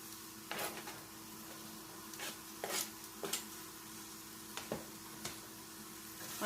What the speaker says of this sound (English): I'm going to go ahead and throw in the green onions.